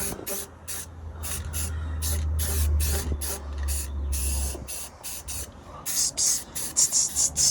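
A spray can of semi-gloss black paint hisses in short, repeated bursts over the welds of a boat trailer being converted to a flatbed, with a low hum under the first half and quick, rhythmic sprays toward the end.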